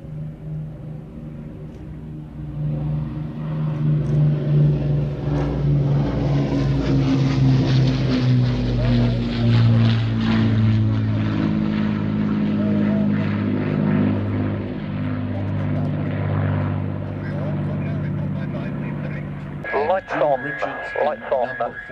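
A former RAF propeller aircraft passes overhead at an air show, its droning engine swelling loud and then slowly fading, with a brief burst of announcer-style sound near the end.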